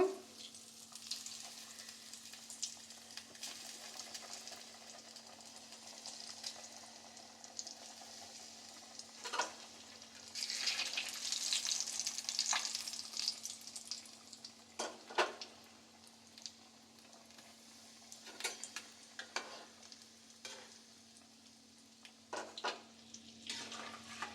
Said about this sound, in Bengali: ভাজার জন্য এদিকে আগে থেকে তেলটা গরম বসিয়ে দিয়েছি, তেল গরম হয়ে গেছে, এরপরে এক একটা করে তেলের মধ্যে ছেড়ে দেব